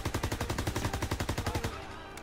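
Rapid automatic gunfire in Call of Duty WW2 rattles off in a steady burst of evenly spaced shots for nearly two seconds, loud and close, then drops to a fading echo with no talking.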